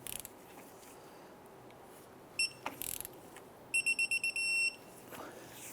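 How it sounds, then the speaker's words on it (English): A ratchet wrench tightens the castle nut on the outer tie rod of a Jeep Grand Cherokee, giving short clicking bursts, first brief, then a longer run of quick ratchet clicks over a quiet workshop background. "Tighten down the castle nut on the outer tie rod."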